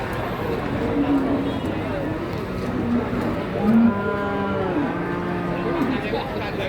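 A cow moos at the Jatirogo cattle market, several drawn-out lowing calls rising and falling over a busy crowd of talking voices and market bustle.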